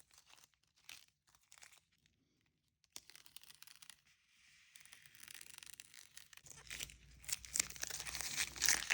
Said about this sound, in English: we're going to peel the masking tape a little bit so it's kind of off of the paper